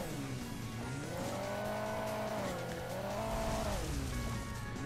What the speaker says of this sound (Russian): вот мою машину закидывает